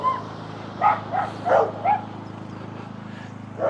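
A small dog near Goondi Bend in Innisfail, Queensland, Australia, gives four quick yapping barks in an even rhythm, close and clear over a low steady hum, with no talking.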